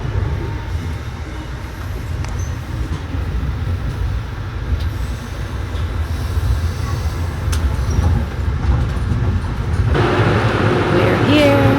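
Riding aboard an Amtrak train between New York and Washington DC, a continuous low rumble of the moving train fills the cabin, with some rising rolling noise toward the end and faint background voices.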